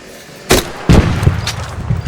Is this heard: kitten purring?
no